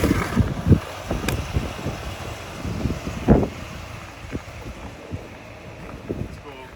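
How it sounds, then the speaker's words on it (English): Wind gusts buffet the microphone over snowy ground outdoors, a rough, uneven rumble with scattered thumps and bumps, fairly loud and close. "But it's also windy too."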